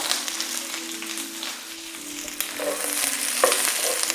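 Chopped onion sautéing in a pan after eggs are cooked, a close steady sizzle with intermittent stirring scrapes and a few light clinks, with no voices.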